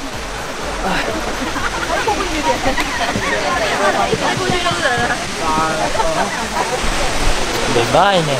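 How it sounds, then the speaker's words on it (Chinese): Sandiaoling waterfall near Ruifang pours with a steady, dense rush of falling water throughout, while a person talks over it. "山雕岭瀑布，看一下"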